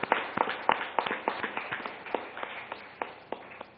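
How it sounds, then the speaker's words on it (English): Audience claps at a T-NEXT launch event at Hotel Kakatiya in Hyderabad, coming as a steady, evenly spaced run of fairly soft, close hand claps with little else around them. "So let's give a round of applause to all the electric companies."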